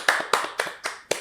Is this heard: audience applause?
yes